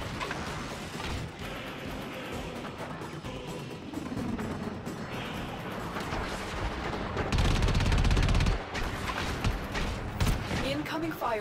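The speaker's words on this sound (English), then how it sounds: "Incoming fire from the Fomorian." Enemy Fomorian gunfire in Warframe during an Archwing mission: a steady, dense clatter of distant weapon fire and mechanical battle noise that swells into a louder rumbling volley near the end, with a voice talking throughout.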